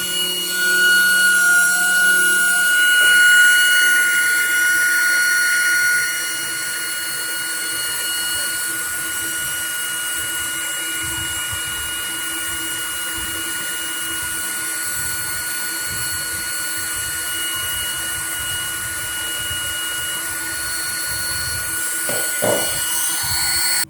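An electric ducted fan driven by a 12V motor whirs inside a plain, straight duct, giving a loud, steady tonal whine with a constant drone and a slight dip after the first few seconds.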